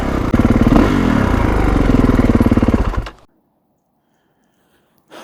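A 2021 Kawasaki KX450X dirt bike rides a trail, its loud, close engine revving hard and steadily for about three seconds before cutting out abruptly into near silence.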